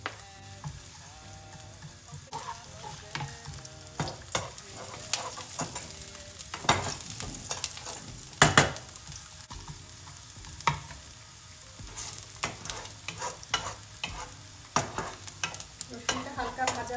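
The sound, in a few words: garlic frying in oil in a pan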